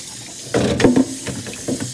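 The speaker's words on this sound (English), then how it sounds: "Now let's get all the water off these guys." Running water splashing over dogs being rinsed of soap during a bath, a close, brief gush with a few bursts under light background noise.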